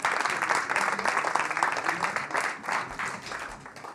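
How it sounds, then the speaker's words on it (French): Applause from a live audience after a musical performance, dense clapping at moderate volume that swells and fades slightly in waves. "Applaudissements pour la musique s'il vous plaît."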